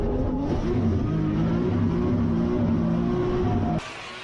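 A race car with a 1JZ engine revs hard and steady at close range for several seconds as it launches on a competition run, then the engine note drops away abruptly near the end.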